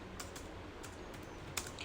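Quiet, rapid typing on a computer keyboard, a steady run of soft key clicks with a slightly sharper tap near the end, no voices.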